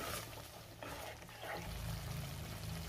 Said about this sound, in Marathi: आता मी हे व्यवस्थित सगळं परतून घेणार आहे तेल सुटेपर्यंत